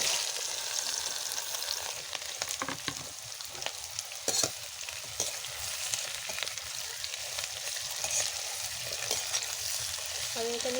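Chopped onion and fresh red chillies fry in mustard oil for a spicy prawn kalia, giving a dense, even sizzle with occasional soft stirring clicks, heard close and without talk.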